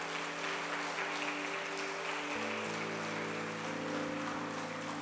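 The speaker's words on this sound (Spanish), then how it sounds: "Denle un aplauso al Señor por la vida de" Faint applause from a church congregation giving thanks to the Lord, a steady wash of clapping set against a sustained organ-like tone that shifts pitch partway through.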